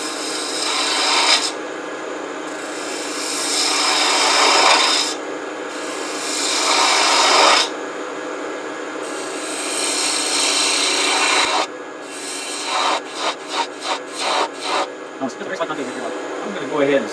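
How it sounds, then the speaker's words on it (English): Wood turning on a lathe, with a tool wasting away wood from a clamshell box blank held by the tailstock: long, loud rasping cutting passes separated by pauses, ending in a series of short, choppy scraping strokes. "Now we'll just start wasting away wood."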